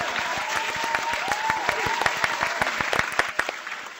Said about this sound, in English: Thought we were going to be doing applause.